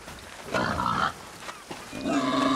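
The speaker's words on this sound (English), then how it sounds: "That sounds like a pig." A pig grunts in Far Cry 6, a few rough low snorts in quick bursts amid faint game ambience, moderately close and not loud.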